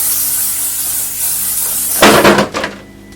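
SPF spray is misted onto a face as a steady close hiss, ending in a few louder bursts, then it stops and no one talks.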